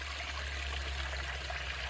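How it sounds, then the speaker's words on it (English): Water runs steadily from one koi pond into another, holding a constant rushing trickle with a low hum beneath, even and moderately loud with no talk. "notice is the sound of running water here. It's one pond flowing to another pond."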